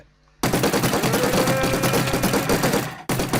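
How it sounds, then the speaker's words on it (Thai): Sustained rapid automatic gunfire on the ArmyCraft server in Minecraft, a loud dense rattle of shots that starts abruptly, runs nearly three seconds without pause, cuts off and then resumes. "ใครยิงเราฮะใครยิง"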